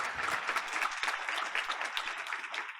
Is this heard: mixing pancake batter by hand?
no